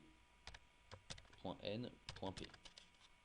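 Keys clatter on a computer keyboard as a short word is typed into a search field of CRM software, a quick burst of close clicks heard under a man's French speech.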